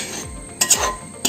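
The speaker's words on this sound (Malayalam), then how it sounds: "നമുക്കിത് നന്നായിട്ട് വറുത്തെടുക്കാം." A spoon stirs and scrapes rice flour as it roasts in a pan, making a dry, gritty rubbing sound broken by a few sharp metallic scrapes and clinks at close range, with no speech.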